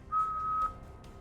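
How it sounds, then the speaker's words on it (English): A single steady steam whistle sounds for about half a second at moderate distance, a clear pure tone that cuts off cleanly and leaves quiet background. "you hear a steam whistle"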